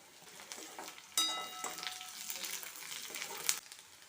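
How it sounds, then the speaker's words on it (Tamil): Onion, green chilli and curry leaves sauté in hot oil, giving a moderate sizzling crackle that swells sharply as the leaves hit the pan, with a few clinks of stirring. "வெங்காயம் சேர்த்துடலாம் பச்சை மிளகாய் ஒரு நிமிஷம் போல் நல்லா வதங்கி வரட்டும் கருவேப்பிலை சேர்த்துடலாம்"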